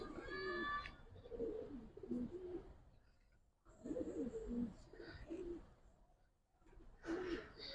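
Giribaz racer pigeons cooing in soft, low repeated bursts, three clear phrases separated by short pauses, close by and otherwise quiet.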